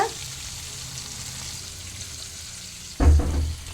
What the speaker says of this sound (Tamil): கோவக்காய் பெரிய வெங்காயம் இது இப்படி எண்ணெயில் போட்டு வேக வச்சு எடுத்துக்கிட்டு